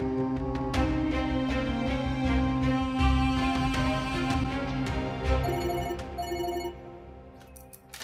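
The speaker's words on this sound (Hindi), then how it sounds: "अल्लाह, ये जुल्फी भी ना अपना फोन घर भूल गया।" A telephone left at home rings loudly in a household drama scene, its bell tone repeating steadily over a dense bed of background music, with no talking.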